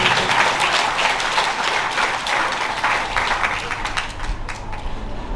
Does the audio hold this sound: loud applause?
yes